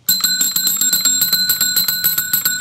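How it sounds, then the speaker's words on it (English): A small bell on a dress coat jingles rapidly and repeatedly, bright and close, in a quick steady shaking rhythm throughout. "Dorothy, I have a bell on my dress coat, and this is how I ring it"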